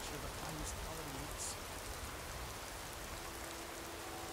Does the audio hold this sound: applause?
no